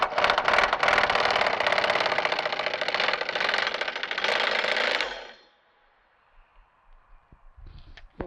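An impact wrench with an extension takes out subframe bolts on a Ford Mustang S550 during a dual rate spring install. It gives about five seconds of loud, rapid hammering rattle, then quieter clinks of parts, with no voices.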